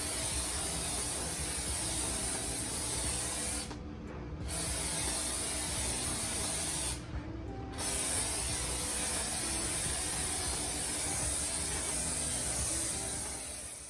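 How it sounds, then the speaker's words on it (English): Homax orange peel wall texture sprays from an aerosol can in a close, sustained hiss, broken by two short pauses before resuming. "I used the Homax wall texture in a can in the orange peel"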